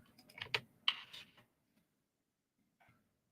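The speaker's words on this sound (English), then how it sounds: "Now I can start typing out my thoughts." Quick bursts of typing on a computer keyboard, a cluster of close, crisp key clicks in the first second and a half, then near silence with a few faint taps later.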